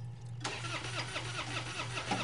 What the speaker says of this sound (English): we're going to drive the car